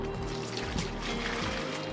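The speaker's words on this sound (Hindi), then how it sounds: "और इसमें हम डाल देंगे पानी।" Water pours into a magic spin mop bucket with a steady, close splashing rush that runs evenly throughout without pauses.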